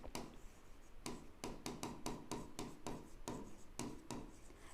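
Chalk or marker tapping and scratching across a board in short bursts while accounting entries are written out, a brisk irregular series of close strikes and strokes with no talking.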